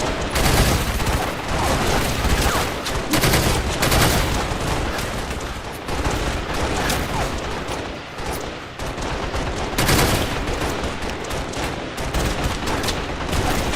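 Dense battlefield gunfire and tank shooting in a Halo game, loud, continuous bursts of automatic fire and heavy blasts overlapping without pause.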